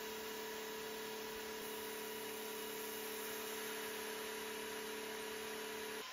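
A Mecpow X5 Pro laser engraver cutting half-inch poplar wood gives off a steady, even hum with a constant fan-like tone, unchanging throughout and with no speech.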